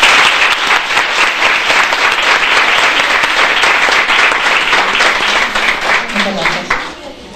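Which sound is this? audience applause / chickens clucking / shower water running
audience applause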